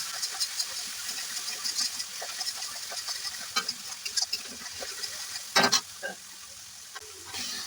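Masala frying on high flame for egg rice, a continuous crackling sizzle with scraping stirs and occasional louder spatters, close and steady throughout with no voices.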